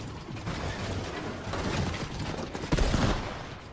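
The Chaos Reloader shotgun reloading in a video game, a busy run of mechanical clicks, ratcheting and metallic clacks building toward a louder clunk near the end, dense and close.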